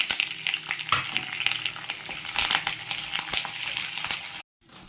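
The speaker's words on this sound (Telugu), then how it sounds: "ఇది ఇలా ఫ్రై అవుతుంది కదండి." Onions, curry leaves and green chillies fry in a pan for homemade semiya upma, a steady close sizzle with crackles and occasional stirring scrapes, cut off briefly near the end.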